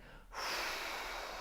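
A single inhaled breath drawn in during a relaxation exercise, a soft airy rush that swells quickly and then holds steady, close and quiet with no talking.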